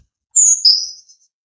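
A bird chirping sound effect: two short, bright, clear tweets in quick succession, loud and close against silence.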